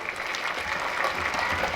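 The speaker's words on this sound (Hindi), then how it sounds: "ताली बजाइए आप लोग।" Applause from an audience at a Hindi religious talk by a dharmacharya, a dense steady patter of many hands clapping across the whole short stretch at moderate level, with no voices over it.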